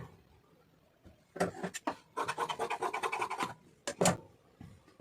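Scissors cut through cloth being shaped for a puff sleeve with a saree border, giving a few short snips and then a run of quick, close, crisp rasping strokes, with no talking.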